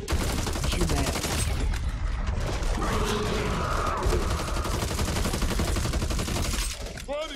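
Sustained rapid gunfire from the co-op zombie shooter Back 4 Blood rattles loudly and almost without pause, a thick volley of overlapping shots with occasional faint voices mixed in.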